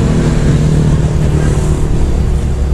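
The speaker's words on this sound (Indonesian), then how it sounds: "ada suara mobil" A passing car's engine drones steadily nearby, its low rumble holding level throughout with no voices over it.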